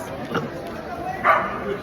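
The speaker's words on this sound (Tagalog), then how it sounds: "Nagtatantrums yung aso." An agitated dog yips and barks in short bursts, one sharper cry standing out midway, set against a busy room with people talking nearby.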